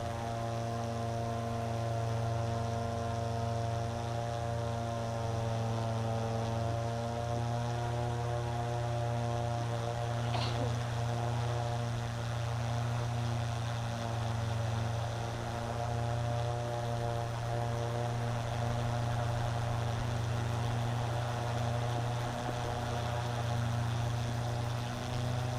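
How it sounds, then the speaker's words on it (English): UAV drone at a TEKNOFEST competition, hovering in place with a steady tonal hum and whirring rotors. The sound holds constant and close for the whole stretch, with no talking. "The drone will hover for 1 minute to make sure the payload mechanism"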